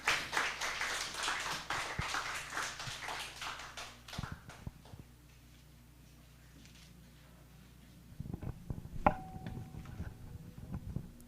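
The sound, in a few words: audience clapping in welcome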